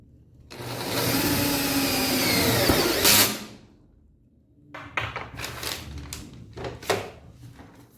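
A self-drilling screw driven by a power driver into a panel during assembly of a CNC plasma cutting machine: one long, steady whirring drive of about three seconds, then a pause and a burst of shorter clattering handling sounds.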